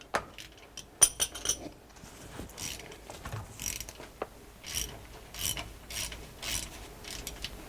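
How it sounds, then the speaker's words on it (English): A 3/8 ratchet on an extension loosens the drain plug of an Allison transmission, giving quick, close ratcheting clicks in short bursts, with a few sharper metallic clinks early on. "I'm gonna use a regular 3/8 extension to undo the drain plug."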